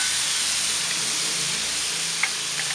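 Paprika-marinated pork chops sizzle on a hot plancha as extra marinade hits the surface, a loud continuous hiss with a few small pops near the end, close and without talk.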